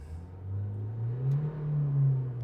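The 2010 Nissan Qashqai dCi diesel engine, suffering poor performance, hums low at idle and then swells into a moderate rev that holds for about a second before easing. The sound is steady and close, with no talk.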